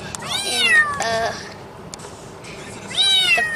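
A cat meows twice, close and clear: a long drawn-out wavering meow, then a pause and a second shorter one.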